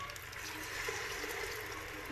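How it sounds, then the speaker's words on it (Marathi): Tamarind water pours into a pot of sambar in a home kitchen, a soft, continuous liquid splash that runs steadily for a couple of seconds. "आता मी टाकते हे चिंचेचं पाणी"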